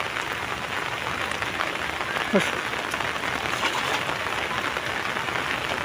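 Steady rain patters on surfaces during cast-net fishing in hill runoff water, an even hiss of drops throughout with a faint voice briefly heard.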